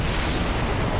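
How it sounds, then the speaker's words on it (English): A loud, steady roar of an explosion from the animated series Avatar: The Last Airbender, filling the moment with dense rumbling noise and no voices. "Explosion."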